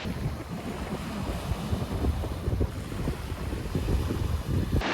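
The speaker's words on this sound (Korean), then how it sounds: "파도 소리랑 같이 모스크의 어떤 정경이 마음에 좀 위안을 주는 것 같습니다" Sea waves wash continuously beneath a mosque built out over the water, a broad, steady surf roar mixed with wind buffeting the microphone, fairly loud and with no talking.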